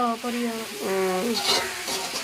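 Onions and curry chilies sizzle and sauté in a pan, a steady close frying hiss with stirring, while someone talks over it.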